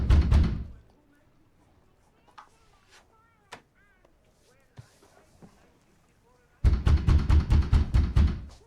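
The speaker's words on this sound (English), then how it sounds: "That evening, Sarah gets a very aggressive knock at the door." Aggressive knocking at a front door on Christmas Eve: a heavy thud, then quiet room noise with faint voices and small sounds, then a rapid burst of about eight loud, forceful knocks.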